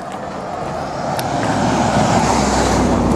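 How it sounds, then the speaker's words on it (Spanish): Cars passing on a street at night, a swelling roadway rumble and tyre hiss that builds as a vehicle approaches and stays loud and close, with no talk. "Dos carros de mierda."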